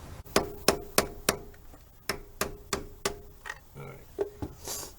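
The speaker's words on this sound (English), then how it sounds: "Told you gotta get your hammer and beat on it." A hammer strikes metal again and again to knock a stuck part off a 2005 Chevy Trailblazer, about a dozen sharp ringing clanks landing in a steady, slightly uneven rhythm, close and loud.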